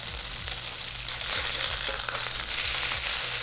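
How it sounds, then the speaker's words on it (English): Scallops stir-fry in oil in a hot wok, giving a loud, steady sizzle with scraping and crackling throughout and no talk. "We'll cook the scallops for just 30 to 40 seconds."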